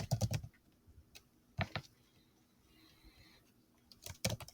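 Keys on a calculator are tapped while entering a pyramid volume formula, with short clusters of crisp, close clicks separated by quiet gaps.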